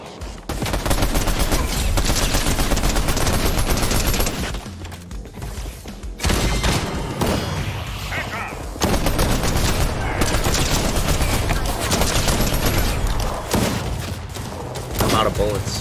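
Loud, dense bursts of automatic gunfire and rapid shots during a Fortnite boss fight, nearly continuous with brief lulls, a voice talking over the fighting.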